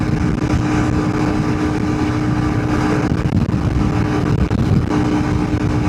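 A big-bore Honda CRF300L Rally motorcycle cruises near full throttle at about 75 mph, its engine a steady loud drone buried in heavy wind rush.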